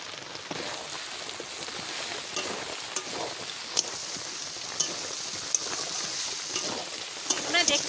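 Mutton curry sizzles steadily in a pan after chili powder goes in, a close, continuous frying hiss with occasional sharper pops and crackles of spattering oil.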